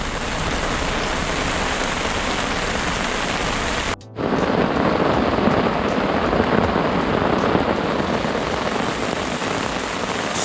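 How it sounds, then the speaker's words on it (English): Heavy rain pours steadily and loudly, drumming on a surface nearby, with a brief dropout around the middle before the downpour resumes. "This is proper rain."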